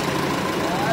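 TMT 2.4-tonne dump truck with a 50 kW engine idling nearby, a steady low rumble with no change over a brief moment.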